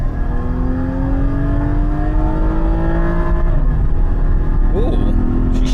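A 2015 Cadillac CTS in sport mode accelerates hard, its loud engine note climbing steadily from close inside the cabin before a quick upshift near the end.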